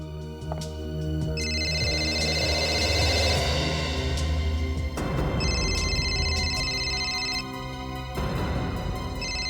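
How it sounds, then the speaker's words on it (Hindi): An electronic phone ringtone repeats in bursts over a steady background, loud and close, with no one speaking. "क्या हुआ सुप्रिया जी, आप फोन क्यों नहीं उठा रही?"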